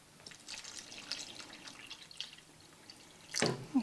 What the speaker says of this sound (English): I'm going to be adding some water.